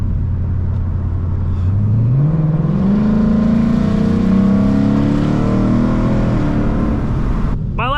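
A Ford Mustang with a Coyote engine accelerates hard, its steady low rumble climbing into a rising rev that swells loud and sustained before cutting off near the end.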